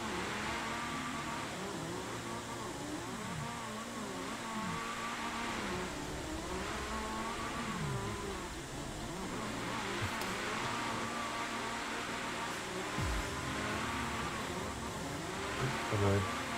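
A drift car in the CarX Drift Racing Online game, fitted with a swapped-in BMW engine, revs hard and whines continuously through the whole stretch, pitch rising and falling as it slides.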